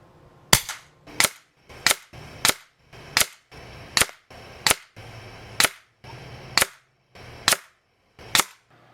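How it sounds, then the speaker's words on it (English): Ten sharp air rifle shots from a Umarex Notos PCP air rifle, fired at a steady rhythm about one per second, each a crisp close crack with a short tail, alone with no talking. "There's the first 10 shots."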